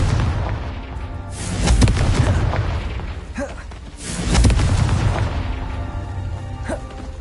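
A Confringo explosive spell fired in Hogwarts Legacy detonates in two heavy blasts, each a deep boom rolling out for a second or so, about two and a half seconds apart, with a voice faintly present.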